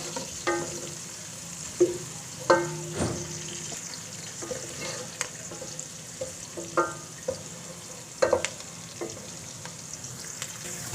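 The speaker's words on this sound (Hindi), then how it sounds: "घी गर्म हो गया, अब इसमें डाल देंगे प्याज" Onions fry in hot ghee for a potato and egg curry, with a soft continuous sizzle and scattered knocks and scrapes of a spoon stirring in the pan, moderately quiet and close.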